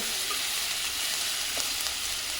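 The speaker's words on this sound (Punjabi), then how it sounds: "ਅਸੀਂ ਇਹਨਾਂ ਇਸ ਤਰ੍ਹਾਂ ਪਿਆਜ਼ ਬਰਾਊਨ ਕਰਾਂਗੇ" Onions browning in a pan for an aloo matar curry give a steady, fairly loud sizzle that runs evenly for a couple of seconds, with no voices.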